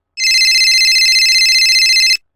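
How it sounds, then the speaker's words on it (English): A cell phone rings with a loud, bright electronic trill, one continuous burst of rapid pulsing tones lasting about two seconds before cutting off cleanly, close and alone. "A cell phone rings."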